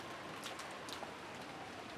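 Rain falls steadily over a rainy rose garden in a game scene, a continuous soft hiss of drops, evenly loud throughout with no voices.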